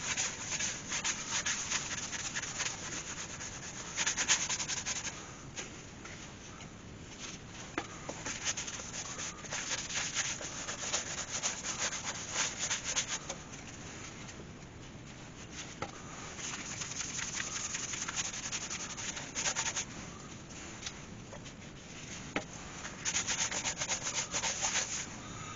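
Sanding sealer being rubbed onto a wooden bowl glued up from donated wood and cedar strips, turning on a lathe, a continuous soft rubbing and swishing texture with faint scratchy ticks throughout.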